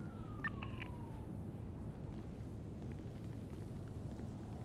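An ambulance siren in a video game wails faintly in the distance, a brief sweeping tone early on that fades out under a low, steady background rumble.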